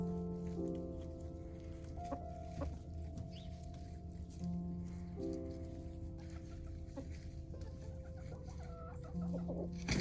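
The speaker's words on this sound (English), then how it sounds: "And here's the chickens enjoying their new digs." Several chickens cluck steadily in their winter run, a soft, continuous chorus of overlapping clucks and low murmurs at moderate distance, with a faint background hum.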